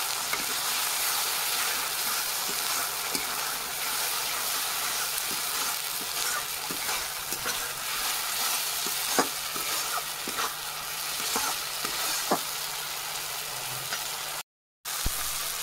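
A hot pan of onion, tomato, green chilli and nuts for paneer sizzles and fries steadily after water is added, with a constant loud hiss and occasional clicks of stirring, no voices.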